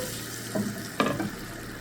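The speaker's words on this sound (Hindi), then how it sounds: "अब ये तड़का जो है वो मैं इस पे आधा तड़का जो है अभी इस पे डाल दूँगी" Two short bursts of sizzling, the second louder and sharper, as hot oil tempering is poured onto cooked chickpeas for Lahori chole, with a quiet hiss between and after.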